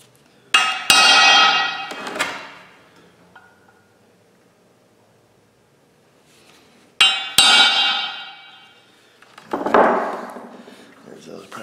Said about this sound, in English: I want to take and center punch these